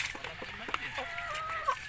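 Brahma chickens clucking nearby in short, uneven bursts, with soft murmuring calls overlapping at a moderate, close volume.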